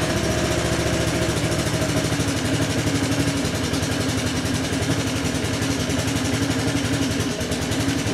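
Close, loud Honda Helix CN250 250cc scooter engine running steadily in a rough, even idle with a constant throb, holding level throughout without clear revs and with no talking.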